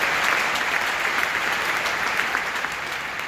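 Large audience at a Rotary International convention applauding, a dense steady wash of clapping that holds throughout at even loudness.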